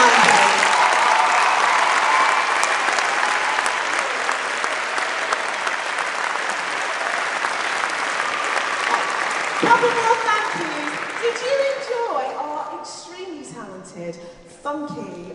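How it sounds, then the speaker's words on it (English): A large crowd applauds at a winter music charity concert, loud dense clapping that holds steady for several seconds before thinning out, with cheers and a voice rising over the fading applause. "So can we have a huge round of applause for Dan?"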